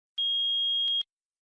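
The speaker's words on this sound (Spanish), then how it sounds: "Si el multímetro marca 1 y emite un pitido" A multimeter in continuity mode gives one steady, clean electronic beep lasting about a second, loud and alone in silence, with a small click at its end.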